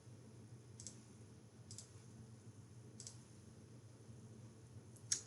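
A computer mouse clicks a few times at wide, irregular intervals while colors are changed in an infographic design program, faint and crisp over a steady low room hum, with no talking.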